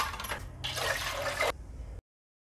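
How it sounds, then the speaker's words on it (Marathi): Water pours into a cooking pot in a steady splashing gush for about two seconds before it stops abruptly. "त्यात आपण 4 वाट्या पाणी टाकूया"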